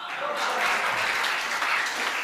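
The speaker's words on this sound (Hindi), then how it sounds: "आप लोगों को तालियां बजानी ही होगी" Audience applause at a Hindi comedy poetry (hasya kavi) stage show, a steady wash of many hands clapping throughout, fairly loud and continuous, with faint voices mixed in.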